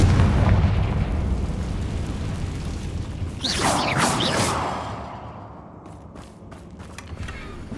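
A Confringo fire spell goes off in Hogwarts Legacy with a rushing whoosh and booming explosion over a rumbling game backdrop, followed by fading crackles and smaller bursts.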